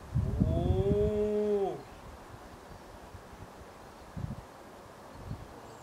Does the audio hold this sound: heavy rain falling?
no